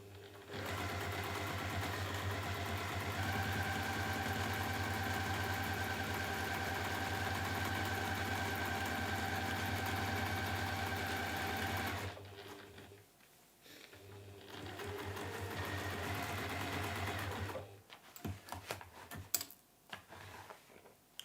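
A sewing machine stitches a fancy washbag, humming steadily and loudly at close range for about twelve seconds, then pausing and starting again in shorter bursts with clicks and handling sounds, no voices.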